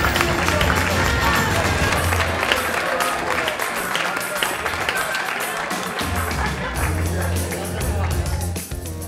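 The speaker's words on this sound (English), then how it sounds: "Give her a round of applause." Audience applause and crowd noise fill a magic lounge after a volunteer returns to her seat, a dense steady wash of clapping with low rumble throughout, loud and close, fading slightly near the end.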